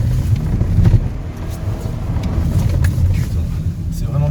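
A BMW 5 Series 530d slides sideways through a field, its engine a heavy low rumble with bumps and rattles over rutted ground while people talk loudly inside the car.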